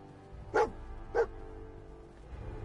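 A dog companion in a video game barks twice in a post-apocalyptic setting, two short, fairly loud yelps about half a second apart over a low ambient game background.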